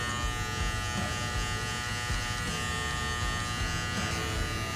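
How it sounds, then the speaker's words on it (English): An electric hair clipper buzzes steadily and close while cutting hair for a skin fade, a continuous loud motor hum with slight textural variation as the blade corner passes through hair, with no talk. "I'm kind of just using the corner of the clipper here."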